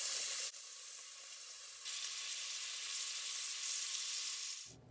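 Chopped onion hits hot oil with cumin and a little ghee while frying for chana dal, setting off a loud steady sizzle that holds close and constant for several seconds before cutting off, with no talk.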